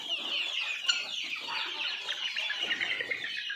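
Domestic chickens clucking continuously, a hen with her chicks at a farm, with a steady overlapping chorus of soft clucks and chirps, close and fairly loud, one sharper peck-like burst near the start, no talking.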